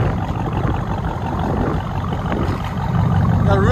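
A 2020 Dodge Durango SRT with true dual straight pipes idles close by, giving a loud, steady, deep rumbling burble that swells slightly toward the end.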